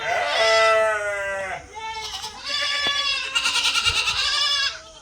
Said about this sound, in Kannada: ಅಲ್ಲೆಲ್ಲ ಮೇಕೆಗಳೆಲ್ಲ ಸೌಂಡ್ ಮಾಡ್ತಾ ಐತೆ